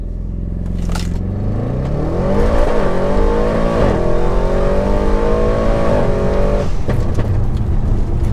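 A 916 bhp Audi RS6 launches hard from a standstill, its engine note climbing steadily through the revs as it pulls away loud and close, with no one speaking.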